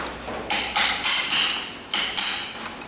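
A small chisel struck with a hammer to knock tabs out of the way on a Ferguson TEA20 tractor under restoration: about six sharp, loud metallic blows in an uneven rhythm, each ringing briefly.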